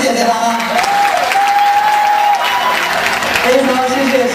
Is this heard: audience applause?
yes